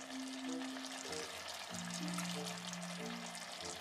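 Water is poured in a steady, wide hiss with shifting tones as the vessel fills, running without a break the whole time.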